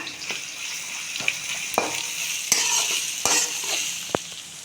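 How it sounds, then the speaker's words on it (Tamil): Chopped onions fry with ginger and garlic in a pan for an egg masala gravy, giving a steady, close hiss of sizzling oil. Several sharp utensil scrapes and clacks from stirring punctuate it, and nobody speaks. "இப்போ இதில் நம்ம கட் பண்ணி வச்ச வெங்காயம் இது கொஞ்சம் நல்லா டிரான்ஸ்பரண்ட் ஆகிற வரைக்கும் நல்லா வேகட்டும்"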